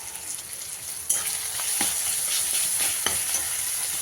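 Fish curry sautés in a pan with turmeric and salt, a steady close sizzle that jumps louder after a second, with a few sharp spoon taps and scrapes as it is stirred.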